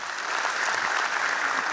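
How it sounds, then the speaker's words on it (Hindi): A seated audience at a career guidance event in Kalyan claps steadily and evenly, a dense wash of applause holding at a moderate level from start to finish without any speech. "बहुत सारी तालियां इनके लिए।"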